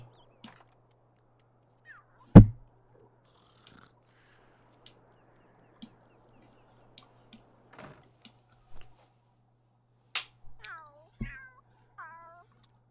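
A cat in the video game The Sims 3 makes a few short meows near the end, after sparse ticks and clicks over near-silence. A quiet low hum runs underneath.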